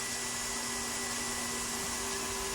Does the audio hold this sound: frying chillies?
no